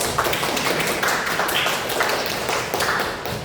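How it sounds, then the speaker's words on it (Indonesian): Dense, steady applause fills a classroom during a microteaching lesson at a teacher-training faculty, with many hands clapping at close range and no clear pauses. "Tepuk tangan dulu."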